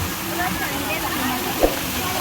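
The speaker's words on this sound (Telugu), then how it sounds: "సో వాటర్ ఫాల్ చూడండి పైనుంచి వీళ్ళు సెట్టింగ్ చేశారనుకుంటా" An artificial waterfall at Shilparamam, Hyderabad, gives a steady, even rush of falling water throughout, with one brief splash partway through and faint voices in the background.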